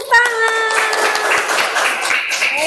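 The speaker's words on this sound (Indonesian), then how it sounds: "Betul, tepuk tangan." Students in an Indonesian Islamic religious education class clap their hands together in a short, dense burst of applause that follows close, mid-level voices at the start.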